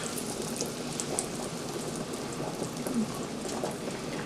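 Butter sizzles and browns in a very hot pan, a steady soft crackling hiss with fine popping throughout, fairly quiet and without voices.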